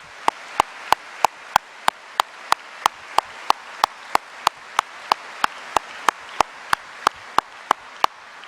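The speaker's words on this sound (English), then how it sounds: "let's give me a massive round of applause for all the staff at Edinburgh Napier University" Graduation audience at Edinburgh Napier University applauds its staff: a steady wash of clapping runs under sharp, evenly spaced claps repeating at a quick regular beat.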